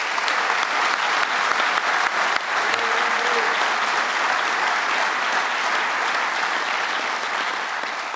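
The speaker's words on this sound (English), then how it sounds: "Let's give them a round of applause." A roomful of people applauds at a public announcement for a solar technology manufacturer, sustained thick clapping at a steady level from start to finish with no speech over it.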